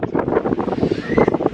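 Wind blowing at a beach, a close, rough buffeting of gusts against the microphone with a low surf-like rush underneath, steady for a moment and fairly loud.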